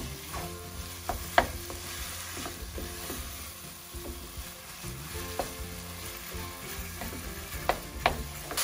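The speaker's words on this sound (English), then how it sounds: "It's the smell of lamb when you try and fry it with the spices you have in the pan." New Zealand lamb mince fries with spices in a pan, a steady soft sizzle broken by occasional clinks and scrapes of stirring, heard close and alone.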